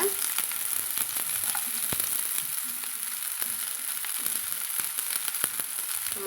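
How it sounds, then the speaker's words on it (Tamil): Small shallots hit hot oil with popped mustard seeds, a dense, steady sizzle crackling throughout with scattered sharp pops and faint stirring scrapes, close and without talk. "கடுகு பொறிஞ்சு வந்ததும் நாம் வெட்டி வச்சுக்கிற சின்ன வெங்காயத்தை வந்து சேர்த்துக்கலாங்க"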